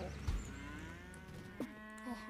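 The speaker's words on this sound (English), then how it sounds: "I knocked down a cow." A cow moos in the video game Wobbly Life, one long, close bellowing call that rises and falls, with short thumps at the start and near the end.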